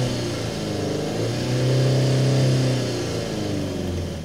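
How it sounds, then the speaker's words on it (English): A 2024 GWM Tank 500 SUV's real exhaust as the engine is revved, a low steady drone that swells in pitch and loudness midway and then settles back, heard close with no talking. "underneath is a real exhaust. And for some strange reason, you want to hear what it sounds like."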